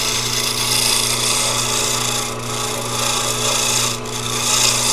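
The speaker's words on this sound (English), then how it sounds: "So right now I'm just using this bowl gouge to try to make an even, or a nice parallel cut, if you will." A bowl gouge shaves a wooden pen blank spinning on a lathe, giving a steady, close rasping scrape over the lathe's constant motor hum, without any talk.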